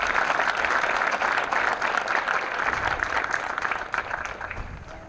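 Sustained applause from a crowd at an LAPD recruit officer graduation ceremony, dense steady clapping that gradually thins out toward the end.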